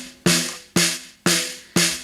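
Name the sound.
snare drum, bottom microphone recording only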